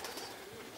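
Pigeons in a racing-pigeon loft coo faintly and briefly under broad, hissy background noise, with a soft, low murmur rather than distinct calls.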